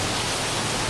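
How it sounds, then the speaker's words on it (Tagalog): Heavy rain and strong wind from a typhoon in Santa Ana, Cagayan: a steady, loud broadband roar of downpour and gusts for about a second, with a brief low thump near the end. "Rhea, unti-unti na nga lumalakas sa mga pag-ulan at ihip ng hangin dito sa Santa Ana, Cagayan dulot ng bagyong Dindo."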